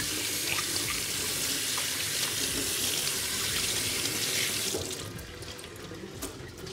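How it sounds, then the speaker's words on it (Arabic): Tap water runs steadily into a kitchen sink while hands are washed between steps of breading chicken cordon bleu. The flow is loud and continuous, then drops lower and thinner near the end, and no one speaks. "نغسل ايدينا ونكمل شغلنا"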